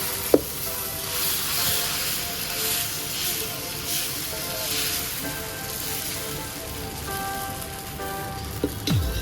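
Dosa batter sizzling on a hot pan, a steady crackling hiss that runs unbroken and close throughout, with a couple of light utensil clicks near the start and end.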